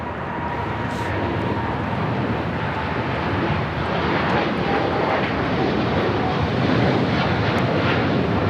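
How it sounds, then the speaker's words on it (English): A United Airlines Boeing 787-10 Dreamliner takes off at LAX, its jet engines giving a loud, continuous broadband roar that stays strong and even throughout, heard from the airport perimeter. "This is United Airlines Flight 32 taking off to Tokyo Narita on a 787-10 Dreamliner"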